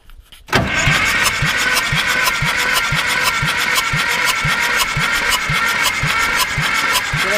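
A repaired Ursus C-360 tractor engine cranks and catches after about half a second of quiet, then settles into a loud, steady idle with an even, regular knocking beat, close by with no talk over it.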